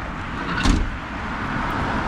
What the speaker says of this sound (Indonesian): Mobil-mobil sudah mulai beraktivitas.